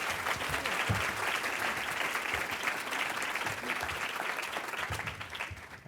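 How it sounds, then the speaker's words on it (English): An audience applauds a panel at an emergency department conference, a dense, even wash of clapping from many hands that holds steady for several seconds before easing off. "Can everybody give a round of applause for our panel"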